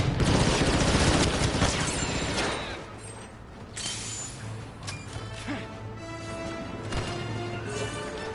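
Grenade explosion and gunfire in the Star Wars Battlefront 2 beta, opening with a loud crashing blast and rapid shots, then quieter scattered battle noise and mechanical sounds.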